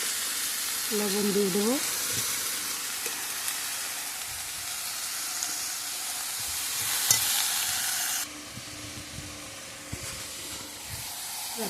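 Raw onions hiss and sizzle in hot oil in a frying pan while ridge gourd cooks, a steady close crackle running throughout, with brief stirring clatter and a voice speaking over it.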